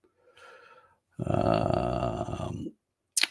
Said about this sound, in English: I can already hear him snoring.